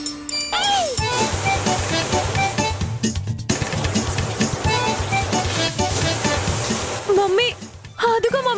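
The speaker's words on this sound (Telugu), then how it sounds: "మమ్మీ, అదిగో మమ్మీ, ఫ్లష్ చేస్తున్నాడు." A toilet flushes in a washroom, a continuous rush of churning water that fills nearly the whole stretch, overlaid with voices and tonal sounds before it cuts off near the end.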